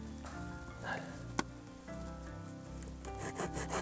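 Rough, scraping strokes of a handsaw biting into wood to shape skis, fairly quiet and close, with a sharp knock partway through.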